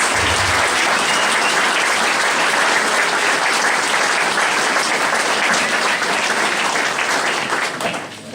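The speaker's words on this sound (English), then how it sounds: "this hardworking group of people really deserves a round of applause" Sustained, loud applause from a gala audience honouring library board members, dense steady clapping filling the room for several seconds before tapering slightly at the end.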